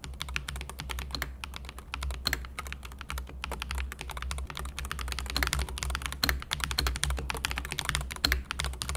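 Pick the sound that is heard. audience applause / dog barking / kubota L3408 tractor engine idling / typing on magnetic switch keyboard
typing on magnetic switch keyboard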